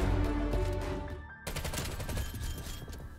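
QBZ-83 assault rifle in Black Ops Cold War firing a rapid automatic burst, a brief pause, then another sustained stream of loud close shots, no voices.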